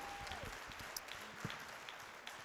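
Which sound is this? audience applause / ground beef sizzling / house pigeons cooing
audience applause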